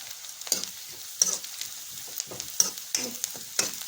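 Chopped onions and green chillies fry in oil for veg Manchurian, a soft sizzle broken by regular scrapes and taps of a spatula, roughly one every half second.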